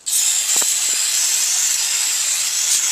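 An aerosol can of brake parts cleaner blasts hard onto a brake caliper in one loud, steady hiss that lasts the whole moment, with a few faint clicks and knocks underneath.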